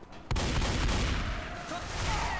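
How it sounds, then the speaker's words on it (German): Gunfire in the video game Left 4 Dead 2 bursts in suddenly as a dense, loud barrage of rapid shots that rattles on without pause. "So, hier müssen wir jetzt schießen."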